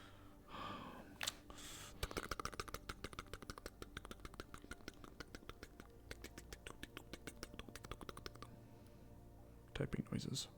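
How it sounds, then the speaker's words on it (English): Typing on a computer keyboard, a fast, continuous run of light clicking keystrokes lasting several seconds, bracketed by brief breathy vocal sounds at the start and end. "Typing noises."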